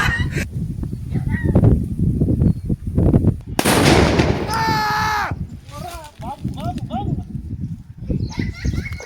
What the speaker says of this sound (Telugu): అమ్మో బాంబులు అయితే వెళ్తున్నాయి